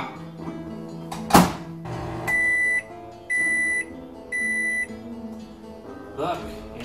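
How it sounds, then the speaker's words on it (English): A microwave hums in steady stretches, each ending in a high electronic beep, with a few thunks and clatters in between. "You're going to put it, your bowl, back in the microwave for another minute to 2 minutes."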